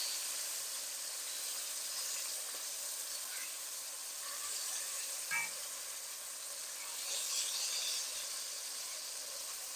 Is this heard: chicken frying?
yes